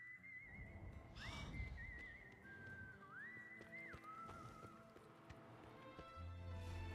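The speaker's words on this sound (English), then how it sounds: "And listen to this music. I love that the whistling there." Whistling carries a melody in Wild Arms video game music, one clear sustained line gliding between notes over soft background instrumentation and light percussive clopping.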